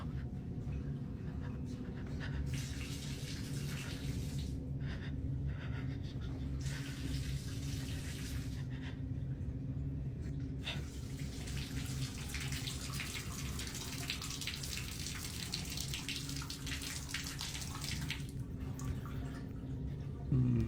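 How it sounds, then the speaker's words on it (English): A bathtub tap runs on its own, water gushing in long bursts that stop and restart with short gaps of quiet between them and a steady low hum underneath. "The water in my tub is turning on and off and on and off."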